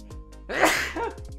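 A single sharp sneeze erupts close and loud during a casual board game design chat, a quick intake followed by a burst, over a faint tonal background.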